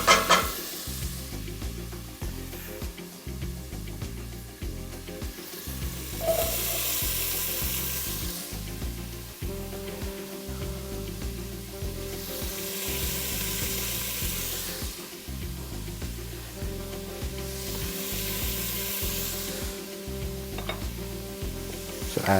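Bacon frying in a soup pot, a steady close sizzle that runs throughout, with rhythmic scraping and stirring strokes repeating every few seconds.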